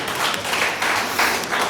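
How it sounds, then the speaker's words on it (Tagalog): A church congregation applauds the fathers during a sermon, a steady wash of many hands clapping at once, moderately loud and continuous throughout. "Palakpakan naman natin yung tatay."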